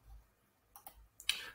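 Two or three small, sharp mouse clicks, quiet and close, spaced apart over a faint room hush while answering an online survey.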